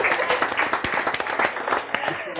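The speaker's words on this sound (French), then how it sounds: "encore un tonnerre d'applaudissements pour eux" An audience gives a burst of clapping for a group of children who have just sung, with separate claps standing out in an uneven, lively patter, fairly close and loud.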